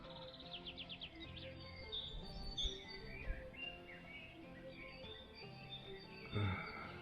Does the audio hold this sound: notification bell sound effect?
no